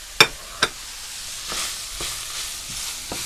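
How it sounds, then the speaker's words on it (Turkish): Thinly chopped onions, three medium ones, sautéing in a pan for a Lebanese zucchini dish, giving a soft steady sizzle with a couple of sharp clinks at the start and lighter stirring knocks later, moderately quiet. "Ve soğanıyla kavuracağım şimdi"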